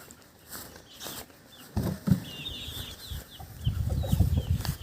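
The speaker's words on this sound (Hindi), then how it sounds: "और बाकी जो मुर्गे हैं वो सारे यहाँ पर ही घूम रहे हैं।" Chickens and roosters roam around a yard, clucking at close range in scattered bursts, with bird calls and movement noises building over the last few seconds and no talking.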